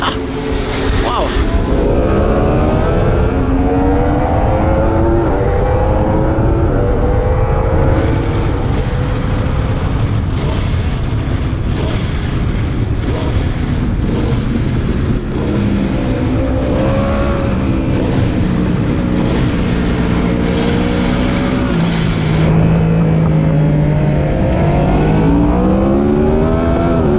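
Yamaha R1 motorcycle engine during an endurance race at Cartagena circuit, loud and close, with repeated rising and falling revs through gear changes and constant wind rush, and a voice talking over it at times.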